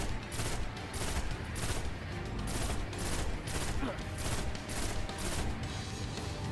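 Rapid gunfire rattles through a firefight in Destiny, loud and close, coming in regular pulsing bursts about every half second over a steady background din.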